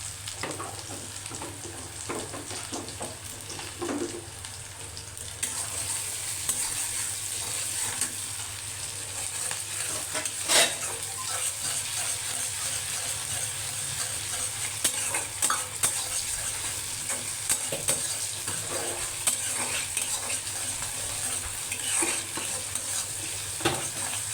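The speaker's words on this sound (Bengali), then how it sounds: "পেঁয়াজটা ভাজা হয়ে গেছে" Onions with salt frying and sizzling steadily in a pan while being stirred, with scraping and stirring sounds throughout, close and continuous, with no talking.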